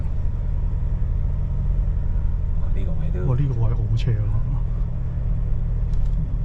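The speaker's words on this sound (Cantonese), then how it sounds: "我咧出邊聽咧會聽到個引擎係真係紅住佢咧" A Ford Ranger Raptor's engine gives a low, steady rumble as the pickup climbs a steep hill, heard from inside the cab. Voices talk and exclaim over the constant drone.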